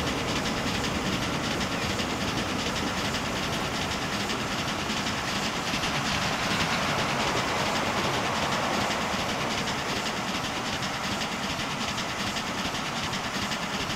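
A train runs in the game Transport Fever with a steady, loud rumble and rolling wheel noise, continuous and even throughout, heard alone without talk.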